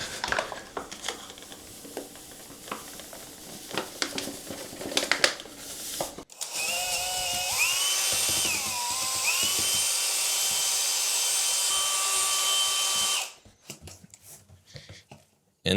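Spectralock Pro epoxy grout being mixed in a bag. Scattered clicks and handling noises give way to a loud, steady motorized whine lasting about seven seconds, which then cuts off abruptly.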